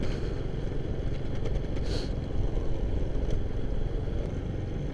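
A 2014 Honda Supra X125 R carbureted motorcycle engine runs nearby with a steady, rough, low idle rumble. It goes on without a break for the whole clip, and no voices are heard.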